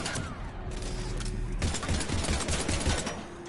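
Sustained automatic gunfire in the Mass Effect 3 Legendary Edition video game, a dense continuous rattle of shots amid combat noise, loud and unbroken.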